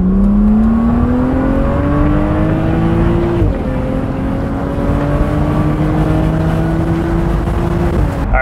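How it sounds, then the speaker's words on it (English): BMW E89 Z4 35i accelerating hard in second gear, the engine note climbing steadily, dipping briefly, then rising again to a high rev before easing off; loud, close and without talk. "you want to hear the car rev out"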